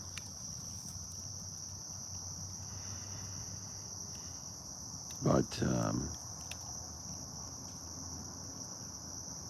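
Crickets chirp at night in a steady, high continuous trill that carries throughout, fairly faint and distant, with a brief burst of nearby speech midway.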